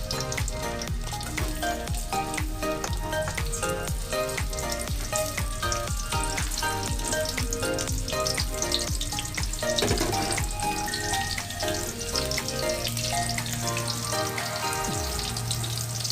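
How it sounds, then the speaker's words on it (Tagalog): Garlic frying in a pan with a loud, dense, continuous sizzle and crackle, close up and unbroken for the whole stretch, a few faint clinks and watery splashes mixed in, no talking. "Fry garlic."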